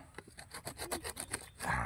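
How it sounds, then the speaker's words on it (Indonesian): A hand saw cuts through a bonsai root in quick, rasping back-and-forth strokes, close and loud, with a steady rhythm of about a dozen strokes and no talk. "pakai gergaji, Mas."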